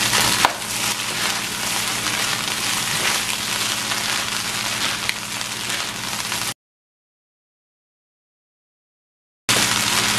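Spatula scrapes and stirs fried rice with spring onions in a hot pan, a dense continuous crackling and scraping close up, broken by a few seconds of total silence before resuming.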